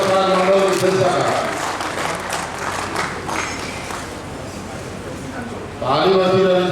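An audience at a police inspector to deputy superintendent induction training ceremony in Jharkhand applauds in a steady, even wash of clapping, with someone talking over it at the start and again at the end.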